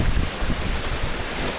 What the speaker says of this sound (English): Big wave!